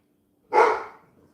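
A single loud, close bark from an indoor house dog breaks an otherwise quiet room and fades quickly with a short tail.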